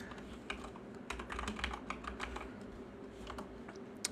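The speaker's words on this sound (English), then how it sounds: "Let me just type it." Keys clatter on a computer keyboard in quick irregular bursts of typing, close and moderately loud, with no speech.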